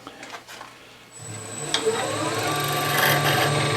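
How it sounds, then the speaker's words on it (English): A skew chisel cuts an oak spindle on a spinning woodturning lathe, starting with a low motor hum that rises into a continuous, steady shaving whir close by, with no talk. "so now I'm going to go back and clean up the rest of the spindle"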